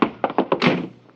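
Door thuds and bangs as a radio-drama sound effect, with several quick knocking impacts followed by a heavier slam that rings out and fades. Close and fairly loud, with no talk over it.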